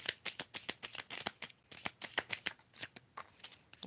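A deck of slippery tarot cards being shuffled in quick, rapid riffles and taps, close and fairly quiet with no talking.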